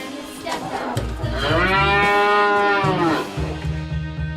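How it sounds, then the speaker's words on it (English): A cow gives one long, loud, drawn-out moo that rises and then falls. It is heard close up and alone, with no talk over it. "Cow."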